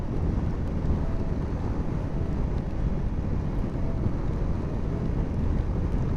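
Strong wind buffeting a motorcycle rider on an open road in Mongolia, a dense, constant low roar of wind noise over the microphone, loud and unbroken throughout.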